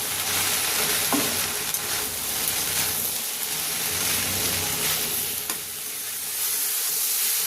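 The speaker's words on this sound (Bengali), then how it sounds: "এই সবগুলো একসাথে নাড়াচাড়া করে কষে নেব, যাতে মশলার গন্ধ না থাকে।" Ground coriander and cumin are stirred and fried together in a pan for an aubergine and potato chorchori: a steady sizzle and hiss of frying, with scraping strokes of the spoon throughout.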